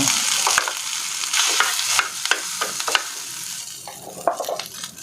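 Rice is stir-fried with beef tapa in a pan, with steady sizzling broken by repeated scraping and clanking strokes of a spatula close by.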